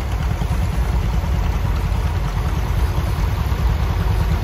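A 1972 model 1066 antique tractor engine runs steadily at an antique tractor show parade, a loud, continuous low rumble with no voices over it.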